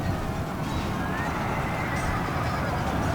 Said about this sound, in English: all these horses are getting impaled